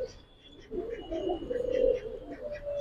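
Giribaz pigeons coo in a loft, with soft throaty calls that rise and swell midway, close by and clearly heard over a quiet background.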